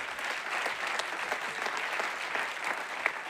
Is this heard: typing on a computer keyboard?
no